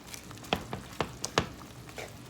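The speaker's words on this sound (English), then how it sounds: "we're going to stir this a little bit" Beef stew being stirred in a pot, with a handful of distinct knocks and scrapes of a spoon against the pot over a faint low simmer, quiet and close.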